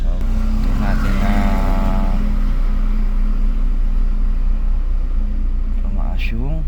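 A 2011 Suzuki Swift's engine revs up in neutral, a loud throbbing rumble with rising and falling harmonic sweeps, close to the car, with a voice speaking briefly at times.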